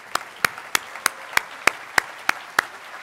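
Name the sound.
short applause for staff and faculty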